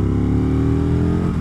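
An Aprilia RSV 1000 10th Anniversary Edition motorcycle engine runs with a steady, close drone, its pitch sliding slightly downward as the revs ease off in a brief burst with no talking.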